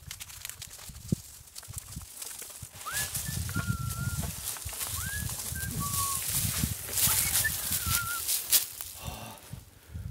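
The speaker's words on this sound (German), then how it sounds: "Hört ihr das? Vögel!" Birds sing in a forest, giving several clear rising and falling whistled calls spread across the scene. Their calls are moderately loud over a rough, rumbling outdoor background of wind and movement.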